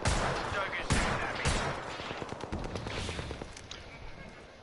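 Incoming gunfire in a video game, with sharp shots and bursts loudest at the start, then a scattered rapid patter of fire continuing at moderate level.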